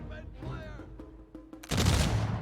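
Gatling guns in the video game Humankind open up in a sudden loud volley after a few quieter clicks and a brief voice, the dense roar of fire continuing to the end.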